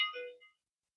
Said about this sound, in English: we got a phone call in the middle of a live recording